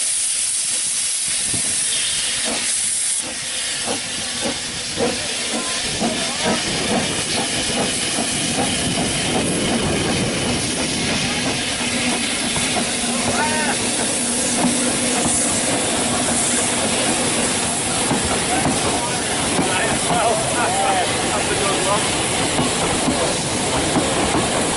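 The Festiniog Railway steam locomotive Earl of Merioneth pulls away from Blaenau Ffestiniog with a passenger train, loud chuffing and hissing steam over rumbling wheels and rhythmic clacking, continuous and close.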